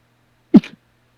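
A single short sneeze, one sharp burst followed by a quick softer tail, close and alone against a faint low hum.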